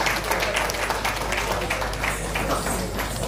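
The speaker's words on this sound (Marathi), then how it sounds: "या कलाकारांसाठी जोरदार टाळ्या झाल्या पाहिजे प्लीज" Audience applause for young dance performers at a health care heroes award ceremony, a steady, dense roar of many hands clapping over a low hum, continuous throughout.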